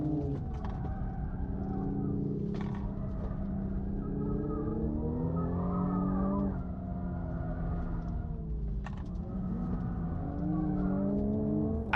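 Toyota Supra and Mercedes-AMG A45 lapping a race track through tight turns; a loud, steady engine drone with rising and falling revs and gear-change sweeps, no talking.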